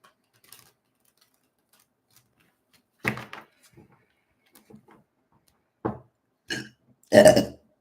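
A person lets out a few short burps in a quiet room, separated by silence, with the last one loudest and longest, close to the microphone.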